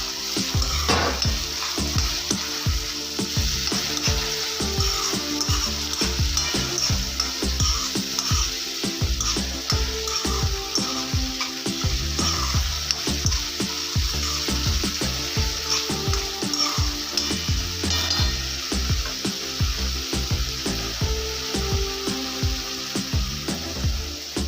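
Onions fry steadily in a hot pan for a masala dosa potato filling, a loud continuous sizzle broken by frequent scraping stirs, with no voices.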